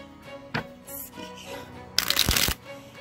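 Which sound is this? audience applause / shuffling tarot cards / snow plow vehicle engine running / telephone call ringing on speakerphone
shuffling tarot cards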